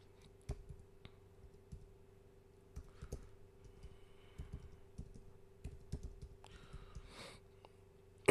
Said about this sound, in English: Now all you have to do is just type in.